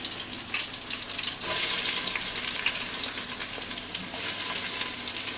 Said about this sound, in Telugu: బిర్యానీ ఆకు, ఉల్లిపాయలు వేస్తున్నాను.